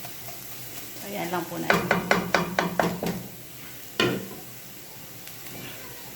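Aromatics sautéing in a pan for carbonara, with a soft sizzle under a quick run of rhythmic utensil taps and scrapes against the pan, then one sharper knock; a voice speaks briefly nearby.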